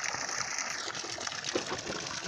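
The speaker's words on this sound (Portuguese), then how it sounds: "A bomba com 66 metros." Water gushes steadily from a solar-powered pump at a farm in Piritiba, Brazil, running on six panels under cloudy skies. The rushing flow stays loud and continuous throughout, with no voices.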